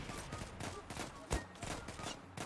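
XCRL rifle gunfire in the online shooter Zula: a rapid run of sharp shots with one heavy blast near the middle, under faint voice chat.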